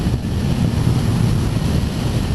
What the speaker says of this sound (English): Wind, okay, it's obviously coming over the top of the fairing.